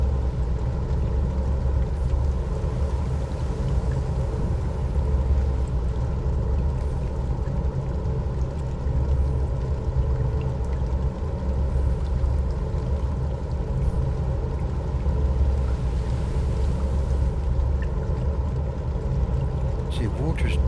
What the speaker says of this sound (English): It sounds a bit of a grunt in these engines